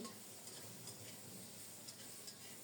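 Potatoes frying in a pan while being stirred, a faint continuous sizzle with soft scraping from the spoon and a few light clinks, no talking.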